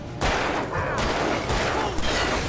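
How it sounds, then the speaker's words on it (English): Gunfire at enemies in the video game Alan Wake, a dense barrage of shots with sharp bursts at about 0.2, 1.0, 1.5 and 2.0 seconds over a loud, continuous layer of game noise. "Sir, please shoot them."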